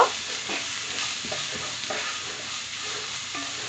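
Tilapia pieces and onions frying crisp in a pan, salted and seasoned with turmeric, giving a steady close hiss of hot oil with faint stirring scrapes throughout, no voices.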